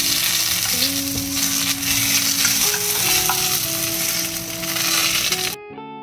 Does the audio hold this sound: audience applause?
no